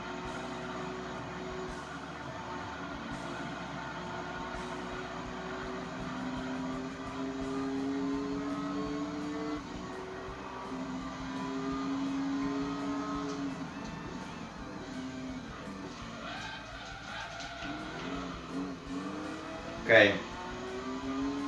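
A Lotus Elise race car engine in Gran Turismo 3 drones steadily with rising and falling harmonic pitch through gear changes and corners, fairly quiet under a talking voice, with a brief sharp spike near the end.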